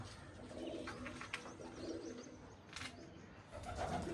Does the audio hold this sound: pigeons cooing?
yes